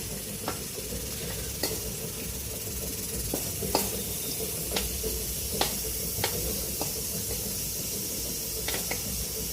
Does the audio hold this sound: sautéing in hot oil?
yes